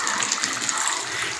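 Water pours into a pot of cooking meat as a steady, close splashing gush that lasts the whole moment with no talking.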